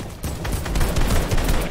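Rocket launchers fire in a Fortnite match, giving a burst of dense, overlapping explosive blasts with sharp bangs stacking over a noisy wash for under two seconds.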